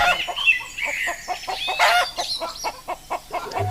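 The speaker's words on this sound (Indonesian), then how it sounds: "suara ayam" Chickens at a cockfight in a staged Indonesian theatre performance, with loud, close clucking and squawking in rapid repeated bursts and a brief higher crow-like call in the middle.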